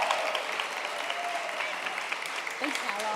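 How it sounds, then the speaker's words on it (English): An audience gives a round of applause for Sarah Kate Morgan, a steady, sustained patter of many hands with a voice speaking over it. "How about a big round of applause for Sarah Kate Morgan?"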